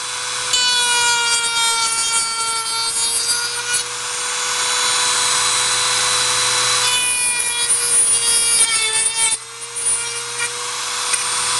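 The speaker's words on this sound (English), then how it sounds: "A little saw blade on the end of the Dremel." A Dremel rotary tool fitted with a small saw blade cuts craft sticks, making a loud, steady high-pitched whine with rasping wood-cutting noise that shifts in pitch and briefly drops out near the end.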